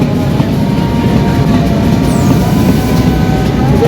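A loud train rumbling past nearby, a heavy continuous roar with faint rhythmic clacking of wheels on rails.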